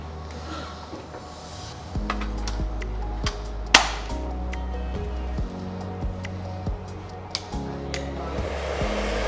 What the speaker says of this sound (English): hair dryer is on now